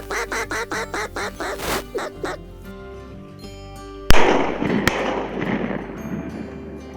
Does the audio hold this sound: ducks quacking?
yes